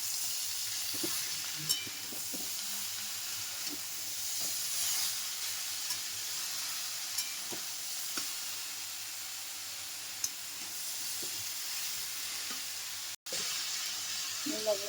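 Vegetables poured into a pan with fish fry in a steady, close sizzling hiss, with faint scrapes and clinks of stirring breaking through now and then.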